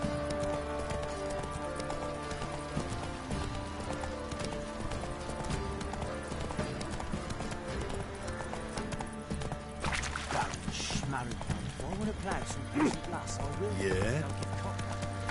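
Hooves of Geralt's horse Roach clip-clop steadily through a Witcher 3 scene, sitting under a dense game soundscape with a voice speaking over it.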